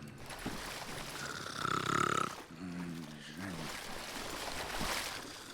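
A character snores in the Western shooter game Call of Juarez Gunslinger, giving a couple of rasping, drawn-out snores over game ambience and background noise.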